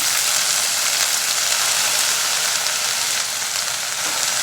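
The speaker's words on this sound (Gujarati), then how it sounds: "હાઈ ફ્લેમ પર સાતળી લઈએ" Fenugreek leaves sautéing in hot oil on a high flame give a loud, continuous, dense sizzle that holds steady throughout, close up, with no talking.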